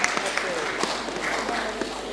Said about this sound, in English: let us give the National Commissioner a very big round of applause